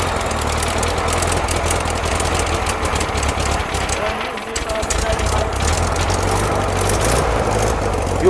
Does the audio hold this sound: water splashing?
no